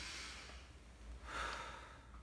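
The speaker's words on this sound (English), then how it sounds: "you want the patient to take deep breaths" A patient with acute bronchitis takes a slow deep breath, drawing in through the nose and letting it out through the mouth, as a soft, close, breathy rush with a quiet background.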